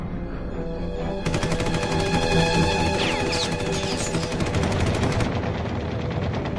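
Rapid machine gun fire from Soviet fighter planes attacking an American bomber over Russia in 1954, sustained dense bursts with a steady rattling roar throughout, no talk.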